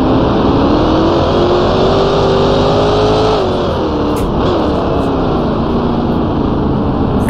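Vintage Grand Prix race cars in the Grand Prix Legends racing game accelerate loudly and continuously, engine pitch climbing steadily with a dense, close roar and no talk.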